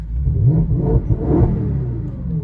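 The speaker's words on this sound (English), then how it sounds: "freaking sounds awesome. Hands down, this exhaust on the car is easily my favorite thing about it. It sounds so good." Exhaust of an Audi RS5 rebuilt from salvage, a deep, rumbling burble with a brief rise in revs, steady and fairly close, heard alone without voices.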